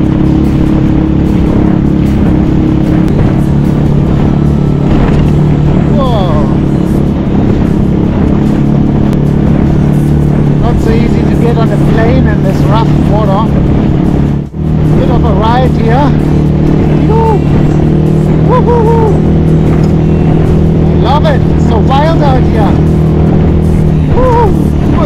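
A motorboat engine drones loud and steady on a rough ride back across New Zealand waters after blue cod fishing, with people talking and shouting over the continuous roar.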